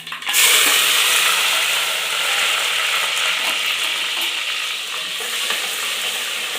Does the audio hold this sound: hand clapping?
no